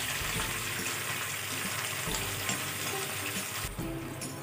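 Half a cup of water poured into a pan of sautéing chicken 65, giving a loud, continuous hiss and sizzle close by that tapers slightly near the end, with no talking.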